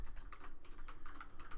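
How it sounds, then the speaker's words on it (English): Typing on a computer keyboard during a RuneScape game session, a quick, continuous patter of key clicks, close and fairly quiet, with no talking. "I'm used to typing RuneScape 3"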